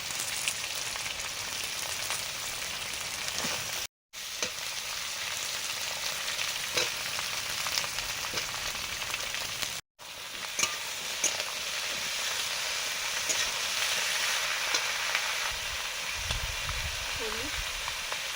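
Potatoes and eggplant fry in a pan with onion in a Bengali fish-head dish, giving a steady, loud broadband sizzle that runs nearly throughout with two brief breaks and faint stirring near the end.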